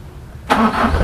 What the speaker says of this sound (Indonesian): Oh, langsung sekali start